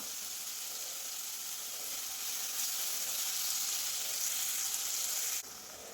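Onion and tomato with a pinch of salt sauté in a pan, giving a faint, even hiss of frying that runs steadily and then drops off abruptly near the end.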